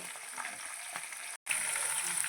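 Green chilli slits and dried red chillies frying in hot oil for Iyengar-style pulihora, a continuous bright hiss with a brief silent break midway, then resuming, close and fairly quiet.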